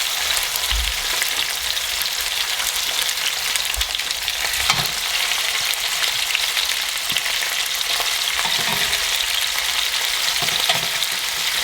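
Short ribs sear in a hot pan, giving a loud, continuous close-up sizzle and crackle with a few soft knocks as the meat is shifted.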